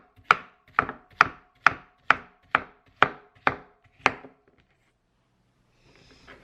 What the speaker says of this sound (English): with this pepino, it really doesn't matter how you cut it, honestly, just get to chopping it